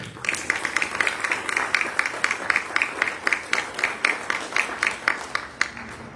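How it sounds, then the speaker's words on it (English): Steady, fairly even clapping from a modest group at a school district board meeting, honoring an elementary school Teacher of the Year. Crisp individual claps sound at a quick regular pace with no voices over them. "Big round of applause for Ruben Hinojosa Elementary's Teacher of the Year,"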